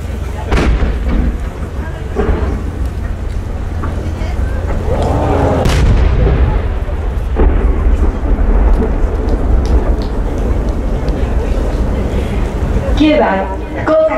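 Japanese traditional chrysanthemum-type fireworks with five concentric rings, shown at a fireworks competition in Yatsushiro, bursting as deep booming thuds over a steady rumbling roar, with crackling near the end.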